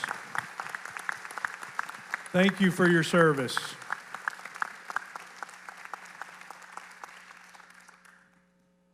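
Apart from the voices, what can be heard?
meeting audience applauding veterans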